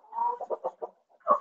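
A Brahma rooster clucks in a short run of quick, close calls, a pause, then one more louder cluck.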